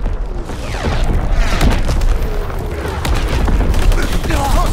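A barrage of artillery strike explosions in Call of Duty WW2 rumbles loud and continuous, with overlapping booms and gunfire-like cracks filling the whole stretch.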